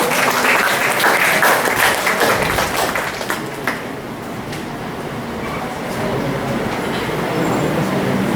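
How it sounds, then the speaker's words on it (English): Audience at a law career talk applauds to welcome a speaker, sustained dense clapping filling the room, strongest at first and then settling into a steady, slightly softer roar for several seconds. "Please join me in welcoming him with a round of applause."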